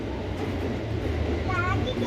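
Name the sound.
Thomas-themed train ride starting to move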